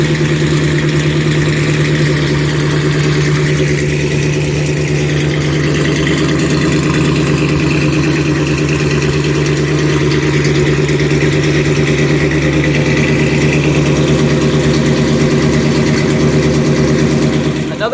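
A 1955 Chevy Bel Air with a fuel-injected engine idling, a steady close rumble that holds even and unbroken throughout with no revving.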